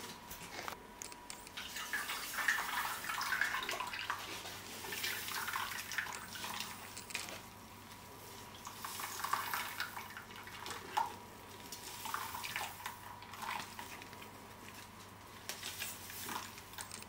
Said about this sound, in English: put some water on